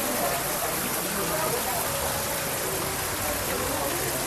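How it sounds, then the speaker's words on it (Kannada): Rain falls inside the Cloud Forest, an enclosed man-made forest garden in Singapore, as a dense, steady hiss of water that stays even and fairly close throughout, with no voices heard. "ಏನು ಸಖತ್ತಾಗಿದೆ ನೋಡಿ, ಮಳೆ ಬರ್ತಾ ಇರೋದು."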